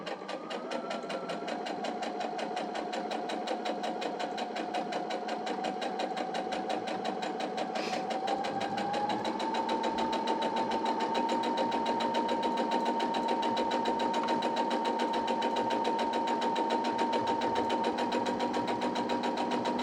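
A sewing machine stitches a joining seam with a short stitch length, a steady rapid mechanical whirring and ticking that runs continuously for about twenty seconds, close and moderately loud.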